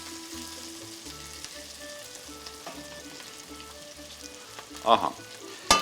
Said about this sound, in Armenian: մեզ 1-2 րոպե պիտի տապակվի